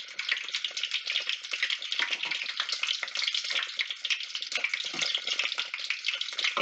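Corn and green onion fritters deep frying in about two cups of oil in a pot, giving a steady, dense, close crackling sizzle that runs unbroken throughout with no voices.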